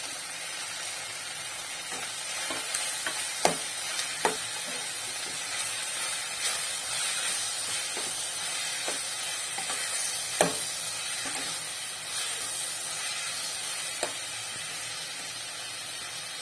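Mint and coriander leaves sautéing in a pan for mint chutney, a soft continuous sizzle and hiss with scattered spatula scrapes and a few sharper clicks, close, without speech.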